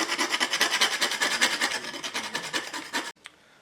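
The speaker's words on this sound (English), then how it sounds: "I'm going to get a round file and just take the pieces" A round file rasps aluminum burrs off a custom air intake in steady rapid back-and-forth strokes, close and dense for about three seconds before stopping abruptly, leaving a single faint tap afterward.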